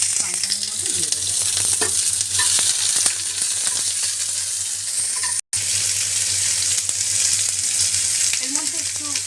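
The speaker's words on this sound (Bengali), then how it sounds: "অ্যাট ফার্স্ট আমি পেঁয়াজগুলোকে ফ্রাই প্যানের মধ্যে দিয়ে দেবো।" Onions frying in a frying pan for a gravy, a steady close sizzle running throughout with occasional stirring clatter.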